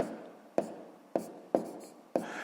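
Pen or chalk strokes as a sixth-grade math solution with fractions is written out: five short, crisp scratching bursts at an even pace, fairly close, with no voice.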